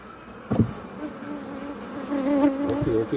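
Honey bees buzz steadily around hive frames during a frame swap-out, a dense close hum with wavering pitch, a brief louder knock near the start and a few sharper passing buzzes later.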